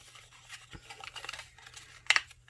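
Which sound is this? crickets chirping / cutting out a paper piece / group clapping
cutting out a paper piece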